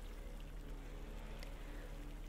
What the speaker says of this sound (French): Des petites cascades se déversent dans un petit lac qui lui-même s'écoule dans ce faible ruisseau